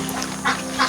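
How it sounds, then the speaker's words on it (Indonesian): Campbell laying ducks on an egg farm quack twice in quick succession, close and fairly loud over a steady background murmur. "bebek telur saya ini"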